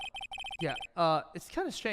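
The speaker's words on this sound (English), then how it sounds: "I heard a phone ring just now, one of those newfangled ringtones" Electronic phone ringtone from an Ace Attorney video game, a quick series of repeated bright beeping tones, then a voice speaking over it.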